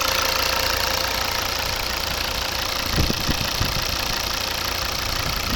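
A 2011 Volvo V60 2.0 D4 diesel engine idles close by, a continuous low rumble with a faint knocking texture and a few brief thumps near the middle.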